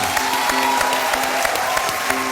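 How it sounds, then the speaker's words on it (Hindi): Audience applause and some cheering on the Dus Ka Dum television game show, a brief burst of dense clapping with faint music underneath, loud and steady for a couple of seconds. "तालियां।"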